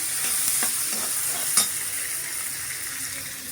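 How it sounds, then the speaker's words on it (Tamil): Steady loud sizzling of garlic frying in hot oil, with a few stirring scrapes and one sharp clink against the pan. "கட் பண்ண வச்ச பூண்டு பல் நம்ம போட்டு நல்லா பொரிச்சிக்கலாம்."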